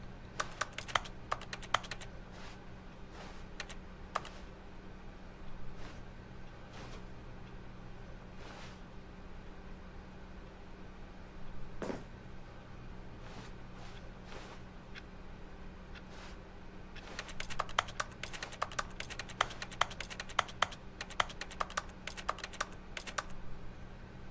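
Computer keyboard keys pressed repeatedly during a Stanley Parable game session, scattered clicks at first, then a dense rapid burst of typing near the end, over a low steady room hum.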